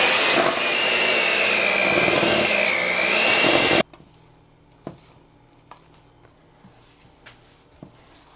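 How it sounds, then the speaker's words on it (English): An electric mixer beats cheesecake batter with sour cream, a loud, steady whirring that runs for a few seconds and then stops, leaving faint clicks and kitchen sounds. "we're just going to beat this together till it's nice and mixed"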